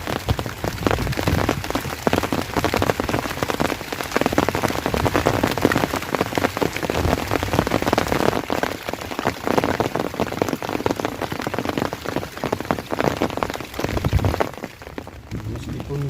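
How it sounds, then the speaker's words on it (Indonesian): Heavy rain pours down during a fishing trip in a thunderstorm, a dense, loud, continuous patter of drops on surfaces that eases slightly near the end. "Meskipun hujan tetap lanjut."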